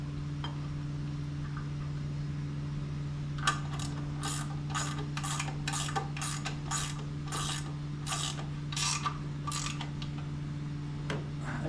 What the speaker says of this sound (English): then I will torque the idle few nuts down